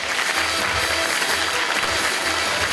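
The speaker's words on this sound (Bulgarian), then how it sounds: "Аплодисменти за Христо Чучев" Sustained, loud audience applause fills a hall at the Golden Needle 2018 fashion award ceremony, an even, dense roar of clapping throughout with no speech.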